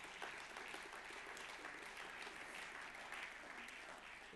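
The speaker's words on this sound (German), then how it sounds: "Da darf man durchaus Beifall klatschen" Sustained audience applause at a CSU party gathering for a speech by Horst Seehofer, a dense, steady clatter of many hands clapping that carries evenly through the whole stretch without a break.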